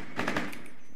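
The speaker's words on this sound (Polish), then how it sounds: "Ja będę strzał robił." A short rapid burst of automatic gunfire from a PC match of Rainbow Six Siege, several quick shots in a row sounding at mid distance, then fading.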